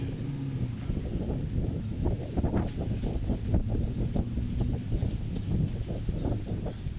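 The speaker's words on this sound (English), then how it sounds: "So a lot of wind being kicked up" Wind gusts across a motorsport racetrack during qualifying, a steady broadband rush with rumbling buffeting that stays loud and constant throughout, with no voices.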